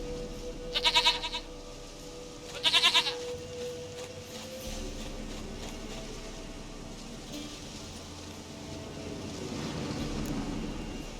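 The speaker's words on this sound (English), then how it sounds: "Goat of mine, dearest," Two short, loud goat bleats come from a goat in the video game The Witcher 3, sounding over a steady outdoor ambience with a low rumble, after which the ambience continues alone.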